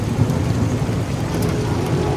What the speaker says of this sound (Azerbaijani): Çox şiddətli yağış yağır.